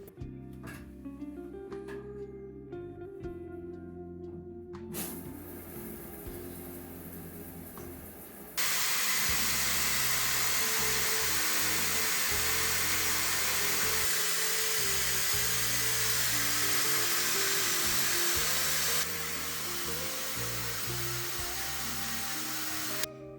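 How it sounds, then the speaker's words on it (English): A Dyson Airwrap drying and styling hair switches on partway through with a loud, steady rush of blown air that holds, then eases slightly near the end, over soft background music. "I also dry and style my hair using the Dyson Airwrap"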